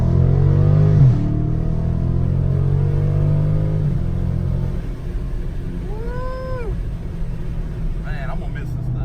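A 2018 Dodge Charger Scat Pack's stock engine rumbles and revs in a couple of rising pulls, deep and close, with a throaty exhaust note that settles back to a steady idle.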